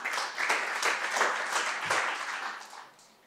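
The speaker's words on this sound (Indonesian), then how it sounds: "Yang mau tepuk tangan buat Tuhan kita." Church congregation clapping during an Indonesian youth worship service, a few seconds of moderate, steady applause that tapers off toward the end.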